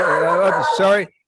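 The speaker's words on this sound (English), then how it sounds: "Sorry about the dog." Dog whining and yelping in a drawn-out, tonal cry, loud and close, lasting about a second before cutting off abruptly during a remote talk.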